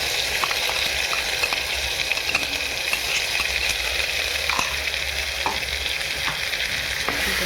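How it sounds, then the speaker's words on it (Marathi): Ground masala for akkha masoor sautés in a pan with a steady oily sizzle, broken by faint clicks and scrapes of stirring, close and continuous throughout. "जरा गॅस बारीक करायचा, परतून घ्यायचं"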